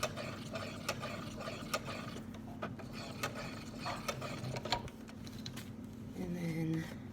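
A sewing machine runs over elastic while back stitching, giving a rapid mechanical clatter of needle strokes with a steady hum beneath, near and moderately loud, shifting pitch near the end as the stitching reverses.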